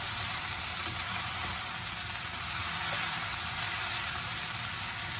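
Chicken and mushrooms sizzle with onions and garlic in a pan, a steady, close frying hiss that stays even and unbroken throughout, with no talking.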